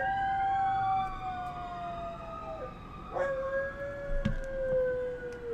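Wolf dogs howl together in long, wavering, overlapping tones that rise and fall throughout, fairly close, with a short sharper yelp partway through and no talk.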